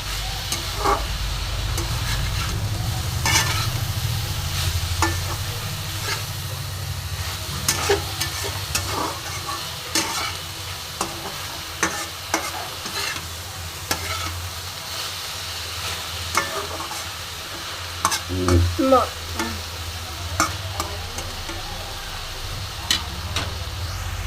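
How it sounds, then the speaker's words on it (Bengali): Flat beans and spinach stir-fried together over a high flame, a continuous loud sizzle broken by frequent clattering scrapes and tosses of a spatula against the pan. "হাই ফ্লেমে আমি এটা বারবার উল্টে পাল্টে নাড়াচাড়া করব, যাতে আমার শিম আর শাক দুটোই একসাথে সুন্দর করে ভাজা হয়"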